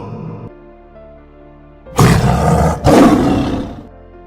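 A person imitating a lion's roar, delivering two loud, close, rasping roars back to back after a quiet moment, with no talk over them.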